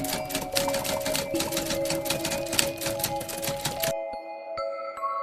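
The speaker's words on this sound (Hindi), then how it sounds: "टाइपराइटर अपने आप शब्द लिखने लगा।" Typewriter typing by itself: a dense, rapid clatter of keystrokes over a steady hum, then a sudden drop to a few separate, sparse clicks and a faint tone.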